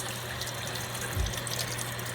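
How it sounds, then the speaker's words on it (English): A faucet turned on for hand washing before handling a patient, water running steadily with a low continuous hiss and a brief gush partway through, close by and with no talking. "turn on the faucet"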